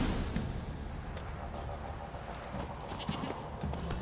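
Horse hooves clip-clop steadily on a path in the video game The Witcher 3, with a close, even rhythm of hoof strikes over a soft outdoor ambience.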